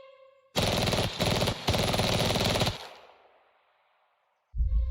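Enemy machine-gun fire in the WW2 video game Valor & Victory, a loud sustained burst of rapid automatic shots lasting about two seconds, briefly broken, then trailing into a fading echo before another sharp hit at the end.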